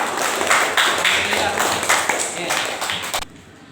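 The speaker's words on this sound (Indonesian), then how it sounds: "Ya, tepuk tangan." Children clap together in a classroom during an Islamic prayer lesson, a brief burst of dense, close applause lasting about three seconds before cutting off.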